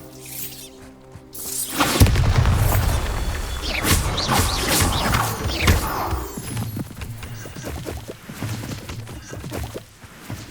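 A Bombarda spell bursting in Hogwarts Legacy: a loud, sudden blast that opens with a heavy low-end impact, then crackling debris and rumble trailing off over several seconds, with no voice over it.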